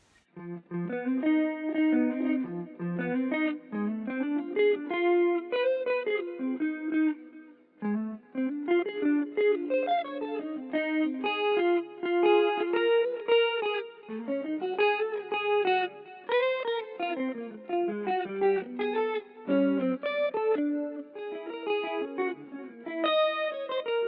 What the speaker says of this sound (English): Number 5 is an overdrive pedal.